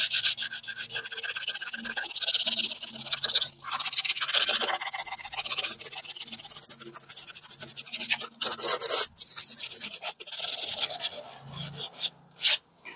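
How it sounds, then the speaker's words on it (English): Sanding gouges and scratches out of a car wheel rim after the Plasti Dip coating has been stripped: a continuous, close, loud rasping scrape in long back-and-forth strokes with short breaks, getting choppier near the end. "what I'm trying to do is sand many of the gouges and scratches that were there before it was originally painted"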